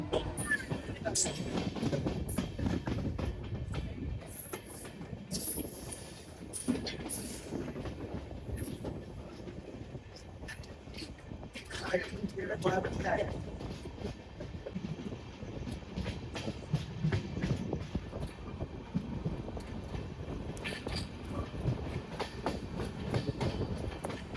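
Inside the Howrah–Anand Vihar Amrit Bharat Express on its inaugural run, the carriage gives a continuous rumble with rhythmic wheel clatter and occasional high metallic squeals, while people talk nearby.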